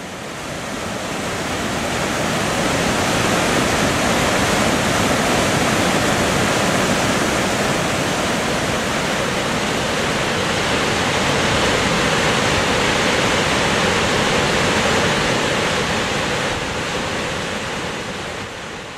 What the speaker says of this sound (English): its flow quickens until it plunges over the chasm that forms the Victoria Falls